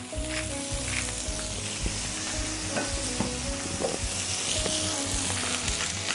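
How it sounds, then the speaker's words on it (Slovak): Beef steak sizzles steadily in a pan, where cream and butter are also being used for a mushroom sauce. The frying is close and continuous with faint scrapes, and no one speaks. "Medzi tým sa nám stejčík dopeká."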